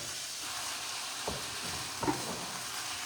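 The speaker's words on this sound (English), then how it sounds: "I'm stirring it pretty well." Crumbled food browns in a frying pan under a steady close sizzle, with two distinct scraping stirs of a utensil against the pan.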